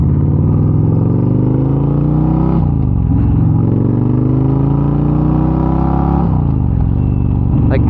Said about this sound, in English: we're going to get the bike out,